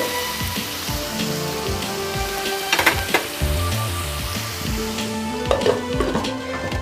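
Curry leaves dropped into hot oil with onions in a pan for Telugu-style egg masala crackle and sizzle steadily throughout, close and fairly loud, with a few sharper pops standing out and no talking.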